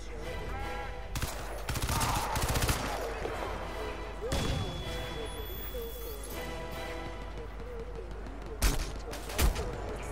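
Bursts of automatic gunfire and scattered shots in the Crysis 2 Remastered shooter game, heavier near the start and with two sharp loud cracks late on, under game ambience with a voice talking.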